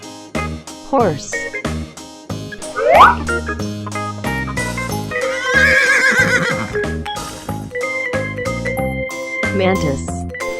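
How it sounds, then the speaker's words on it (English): A horse neighs and whinnies amid a children's animal-sounds learning sequence with background music, the call rising and falling over a steady melodic backing, preceded and followed by spoken animal names. "Horse."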